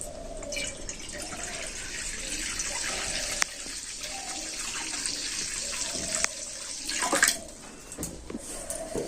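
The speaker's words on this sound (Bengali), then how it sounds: "এবার কড়াতে দিয়ে দিচ্ছি জল" Water is poured into a wok in the kitchen while a sago dish is cooked, giving a steady, close splashing and trickling stream with a few clinks of the pan.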